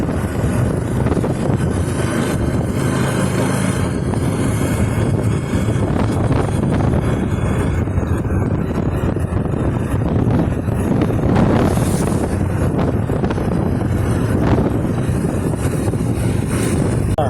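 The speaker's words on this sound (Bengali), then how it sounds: "আর আমি ঝড়ের মধ্যে বাইক চালাচ্ছি।" Storm wind roars against the microphone of a motorcycle riding through hill roads in Arunachal Pradesh, a loud constant rushing blast with engine rumble beneath, no voices.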